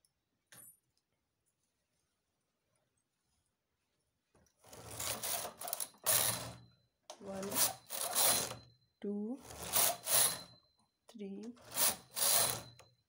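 A knitting machine lays four stitches to start a cable pattern for a men's sweater, with four bursts of carriage rattling and clacking after a quiet start, near and fairly loud, and no speech.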